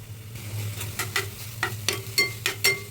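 Sliced onions, curry leaves and ginger garlic paste fry in hot oil, a low, steady sizzle broken by repeated scraping strokes of a spoon stirring in the pan.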